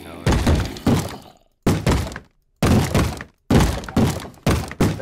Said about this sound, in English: You're gonna bang on the door, I already know it.